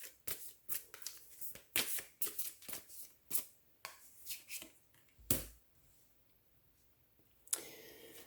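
Tarot cards being shuffled for a love reading: a quick series of close, crisp riffling bursts and clicks, some slower and spaced apart, followed by a near-silent gap and a final snap.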